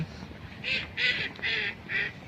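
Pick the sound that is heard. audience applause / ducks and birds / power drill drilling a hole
ducks and birds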